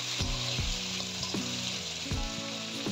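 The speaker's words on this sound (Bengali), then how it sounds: "তারপর কেটে রাখা সবজিগুলো দিয়ে নেড়ে নেব।" Chopped vegetables stir-fried in a pan tempered with black cumin, cumin and fennel seeds, with green chillies, sizzle steadily while a spatula scrapes and stirs in repeated low strokes.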